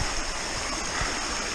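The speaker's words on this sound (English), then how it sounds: "This trail has so many beautiful creeks to cross on the way to Sougahoagdee Falls." A creek along a hiking trail to Sougahoagdee Falls rushes steadily, a continuous close wash of flowing water with no other sounds.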